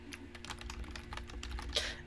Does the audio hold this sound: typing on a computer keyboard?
yes